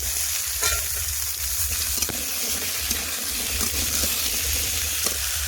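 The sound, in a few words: chopped taro added to fried onions sizzling in oil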